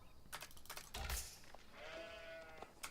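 Sheep bleat in the strategy game Age of Empires 4, a drawn-out wavering call in the middle amid scattered clicks and short game effect sounds, moderately loud.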